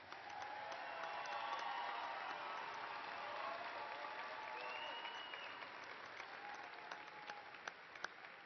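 A large crowd at the Angelo State University fall 2021 commencement applauds the graduates, with sustained distant clapping and light cheering that slowly tapers into scattered claps.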